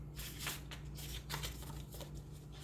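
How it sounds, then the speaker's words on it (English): A deck of tarot cards is shuffled by hand up close, producing repeated rapid riffling and slapping bursts over a low steady hum. "These are a lot harder to shuffle than I thought they were going to be."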